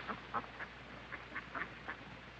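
Free-flying ducks in the zoo at Stanley Park quack in a loose series of short, fairly faint calls, about eight in a couple of seconds, over a low steady background hiss.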